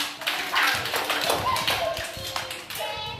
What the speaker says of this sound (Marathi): शाबास, टाळ्या वाजवा